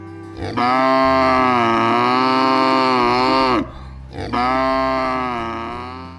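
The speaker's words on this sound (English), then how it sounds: "This is cow." A cow moos twice, each a long, loud, deep drawn-out low, the first lasting about three seconds and the second trailing off gradually.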